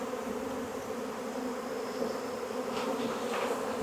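Dense, steady buzzing of a honeybee swarm being shaken into a hive, a continuous close insect drone holding level throughout with no talk.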